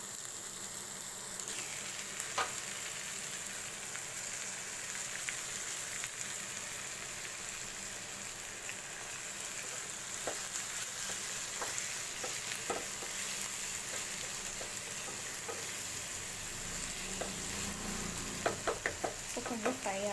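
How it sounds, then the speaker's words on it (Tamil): Capsicum gravy base frying with tomato in a pan, a long, even, rain-like sizzle heard close up, with scattered faint stirring clicks that cluster toward the end. "கொஞ்சம் ஃப்ரை ஆகட்டும்."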